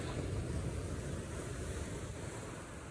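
Sea waves roll against a rocky beach in Pondicherry, a continuous broad wash of surf with wind rumbling on the microphone, heard alone.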